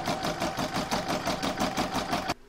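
An embroidery machine stitching the outline of a bauble in a hoop, a close, rapid and steady mechanical chatter of needle strokes that stops abruptly near the end.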